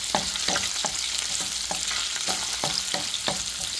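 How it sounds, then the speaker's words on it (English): Diced onion sautés in seasoned oil in a frying pan, a steady close sizzle with regular stirring scrapes of a utensil against the pan, no voices. "Saute up nice."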